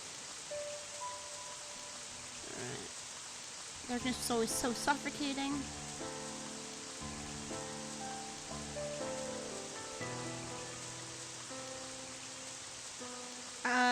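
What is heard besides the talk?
rain echoing through halls, from the video game Pandora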